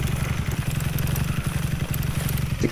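A motorcycle engine idles in the farming video game Farmers Life, a loud, close, steady chugging putter with rapid even pulses and no talk over it.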